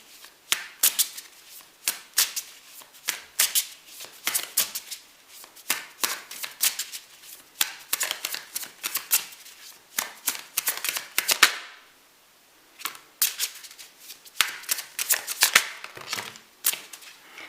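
Tarot cards are shuffled by hand, a long series of quick crisp riffling bursts and soft slaps close by, repeating in uneven rhythm with one brief pause midway.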